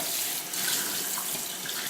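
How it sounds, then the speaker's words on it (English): Water running steadily from a sink tap as dusty trivets are rinsed off, a continuous close, fairly loud broadband hiss with no talk. "we're going to just wash them off in the sink real quick"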